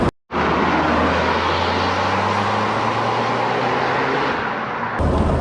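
A Lotus Europa S sports car under hard acceleration, its engine roaring loud and steady for several seconds with a brief dip at the start and a shift near the end; no talking.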